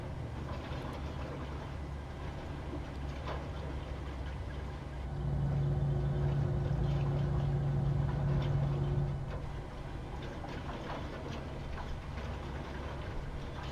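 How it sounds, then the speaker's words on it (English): The engine of a PMDG Boeing 737-800 spools up in Microsoft Flight Simulator, a steady low rumble that swells into a sustained hum midway through and then settles back, with no talking. "Engine stabilized, starting engine 1."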